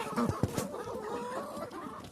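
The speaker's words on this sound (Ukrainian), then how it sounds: "кури так ось кричать, десь може і несуться" A few hens cluck and squawk close by in a yard with turkeys, with a short sharp call near the start followed by softer, drawn-out clucking.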